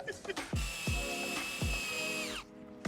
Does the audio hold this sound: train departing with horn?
no